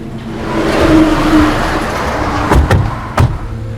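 A car engine runs and revs in a steady rumbling wash, with a couple of sharp door-like thumps near the end as the vehicle gets moving.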